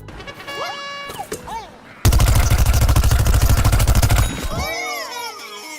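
Rapid, loud burst of pea gatling fire from Peashooter in Plants vs Zombies Garden Warfare, a dense mechanical stream lasting about two seconds after softer game effects, then tailing into chirpy sound effects.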